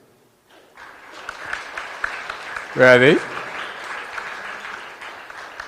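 Audience applause for a second-place team at a finance research challenge final in Kenya, a modest clapping crowd at moderate distance, briefly under a short spoken question.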